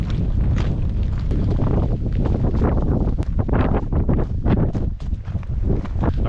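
Strong wind blows with rain in the Alaska wilderness beside a river, heavy gusty buffeting that roars across the microphone in loud surges without a break.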